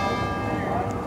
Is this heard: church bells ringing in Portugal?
yes